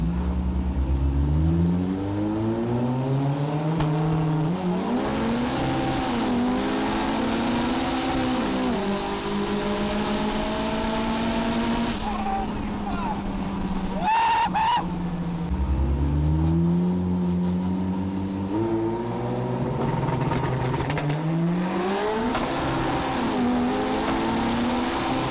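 A modified high-horsepower car of about 1000 hp roars during track testing, revving hard through repeated gear changes with rising engine pitch, loud and close, with brief drops between pulls.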